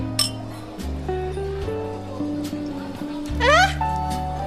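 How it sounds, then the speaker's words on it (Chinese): Glasses clink together in a celebratory toast during a period-drama dinner scene, a bright chime near the start and a brief sharp clink later, heard over steady background music and voices. "为缘分干杯！ 干杯！"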